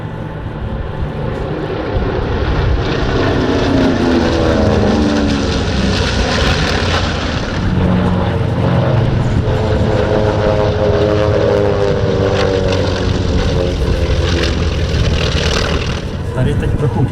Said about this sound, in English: After this pass, the B-25 and T-28 will break off.